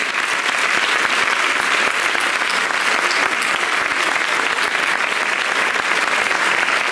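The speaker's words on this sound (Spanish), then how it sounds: "Os pido un aplauso fuerte para ellos." Dense, loud applause fills a hall at the inauguration ceremony of an inventors' exhibition in Peralta's Casa de Cultura, an unbroken wall of clapping that lasts the full seven seconds.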